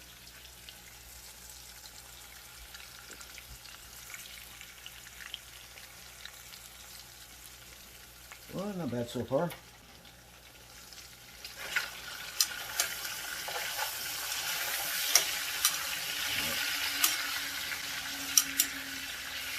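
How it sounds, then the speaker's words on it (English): Low sizzling and spattering of bacon frying in a pan, with faint water and utensil sounds and a brief spoken remark partway through. "Let's see how the bacon's doing."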